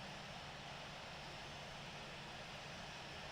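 A Delta airliner taxiing across runway 34 right at Seattle gives off a steady, even engine roar, a constant broadband rumble and hiss with no change over the stretch.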